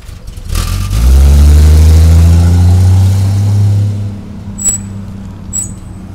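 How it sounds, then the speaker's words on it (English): A 1950s Ford pickup's engine rumbles loudly, a low, throaty idle that swells then eases off, followed by a couple of faint high clinks. "And there's what the truck sounds like."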